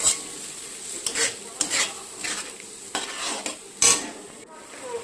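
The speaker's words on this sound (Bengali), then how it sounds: "জল দিয়ে ভালো করে নাড়তে থাকুন।" Kadai paneer is stirred in a pan after water is added, a soft sizzle beneath a series of distinct spoon scrapes and clinks against the metal pan, close and fairly loud.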